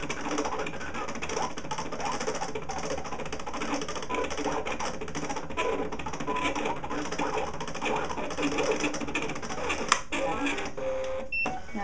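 An eCraft cutting machine slicing lightweight paper on a cardstock stabilizer at pressure 4, a continuous close mechanical whirring and rapid ticking of the carriage that runs steadily throughout, with one sharp click near the end.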